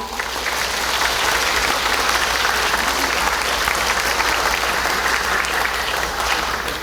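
Applause from the audience opens a 2024 Suicide Prevention Day commemoration ceremony in Gyeongsangbuk-do, a dense, even clapping that stays loud and steady throughout.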